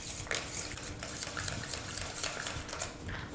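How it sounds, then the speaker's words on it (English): A whisk scrapes and clicks steadily against a pan as thickened sauce is beaten off the heat, close and fairly quiet with a quick, even rhythm and no voices. "I'm going to go ahead and whisk it for a few moments just to make sure that there's no lumps in there."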